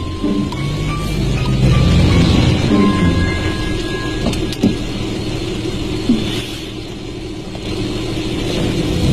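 A car sits in busy street traffic, a steady broad road rumble of engines and passing vehicles filling the scene, with faint higher hums and a couple of brief knocks, no voices.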